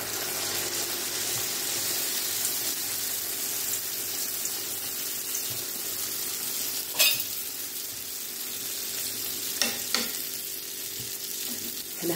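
Kabyle beignet dough fries in hot oil, a steady close sizzle with continuous bubbling crackle and a few sharper pops and clinks of utensils partway through.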